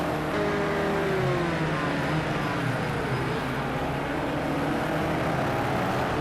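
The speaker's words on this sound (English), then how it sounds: "you can really hear that traction control doing its job off the corner" A race car engine in Project CARS 2 at Long Beach drones and revs steadily, with a rapid stuttering buzz of traction control cutting in and out as power is reined in off corners.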